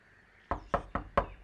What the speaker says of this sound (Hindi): राजदीप पुत्र दरवाजा खोल